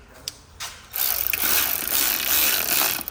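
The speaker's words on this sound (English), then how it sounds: "So once you've got all your bolts in, you need a little quarter drive ratchet." A quarter-inch drive ratchet clicks steadily and rapidly while tightening flywheel bolts on a Hyundai Getz during a clutch replacement, preceded by a few isolated clicks.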